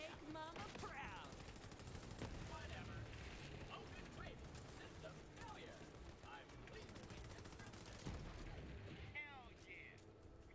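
SMG fire in the shooter game Borderlands comes as rapid automatic bursts of clattering shots, fairly quiet overall, mixed with game effects and a voice talking over the action.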